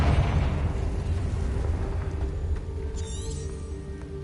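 Confringo fire spell blast in the Hogwarts Legacy video game, a steady deep rumbling boom that holds loud through the clip with a brief crackling burst near the end.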